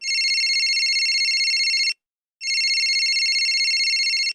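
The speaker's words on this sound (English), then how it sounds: "Suddenly, my phone rang." A phone rings in two loud electronic bursts of a steady high double-toned trill, each almost two seconds long, separated by a short silent gap, with no voices.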